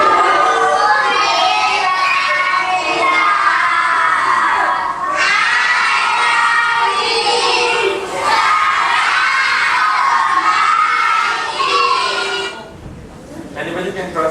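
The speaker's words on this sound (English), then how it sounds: "This is just a welcoming song from the Ghanaian." Recorded Ghanaian children singing a welcoming song, a loud, bright chorus of many young voices shouting and chanting together, continuous and crowded, with a brief dip near the end.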